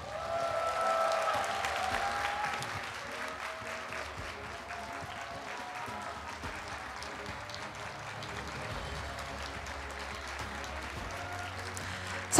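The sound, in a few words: church congregation applauding Bible quiz award winners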